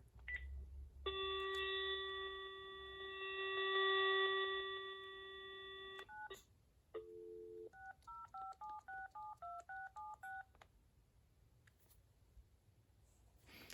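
Number being dialed on a Panasonic K-TG4021 cordless telephone: a long steady dial tone, a short break, then a quick run of distinct DTMF keypad beeps in an even rhythm, clear and close.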